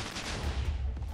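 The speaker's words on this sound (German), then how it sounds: "explodieren dann alles auf einmal und somit kann man das ganze Dorf hier zersprengen" TNT blowing up in a block-building video game, a dense rumbling burst of overlapping explosions packed into about a second, loud and booming with no voices.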